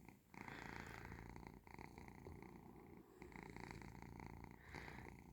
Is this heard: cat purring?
yes